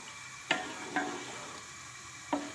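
A spoon mixes a thick haleem of ground lentils in a pot, giving three separate scraping strokes over a low, steady background.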